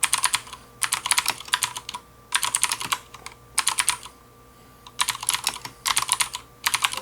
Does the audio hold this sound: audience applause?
no